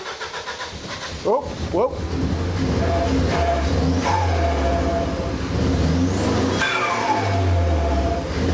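A Vortex V2 car engine cranks with a couple of sharp turnovers, then catches and runs loud and close, with rising and falling revs across the rest. A voice exclaims briefly over it.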